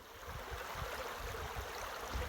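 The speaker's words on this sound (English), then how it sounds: "Hear the babbling of the brook?" A babbling brook at Whitewater State Park flows in a steady, continuous rush of water with a gentle gurgle, close and fairly loud, with no talking over it.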